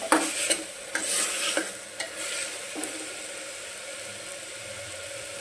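Homemade Punjabi masala is stirred into a sizzling pan while Punjabi khichdi is being made. Several close scraping strokes sound over the frying hiss at first, then settle into an even sizzle.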